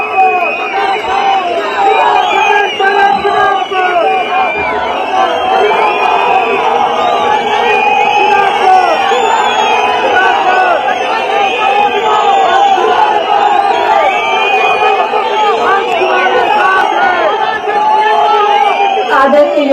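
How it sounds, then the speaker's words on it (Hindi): A large crowd at a political party event in Shimla claps and cheers loudly and continuously to welcome a speaker, with whoops and shouts over dense applause throughout. "जोरदार तालियों से स्वागत करें श्रीमती प्रतिभा सिंह जी"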